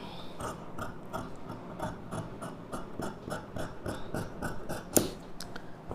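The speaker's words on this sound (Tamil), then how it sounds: "இப்போ ஃப்ரண்ட் நெக் கட் பண்ணிக்கலாம்." Scissors cut through blouse fabric along the front neckline, producing a close, rhythmic run of crisp snipping strokes with a sharp click near the end.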